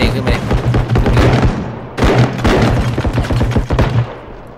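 Rapid automatic gunfire in the realistic bodycam-style shooter Bodycam, loud and close, bursts of dense repeated shots with a brief pause near the middle, while a voice talks over it.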